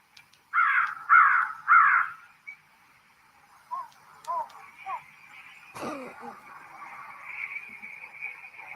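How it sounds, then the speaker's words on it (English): A crow caws three times in quick succession, loud and close in a played-back recording, followed by several softer, shorter calls and a faint background hiss. "once you hear the crow, we're almost there"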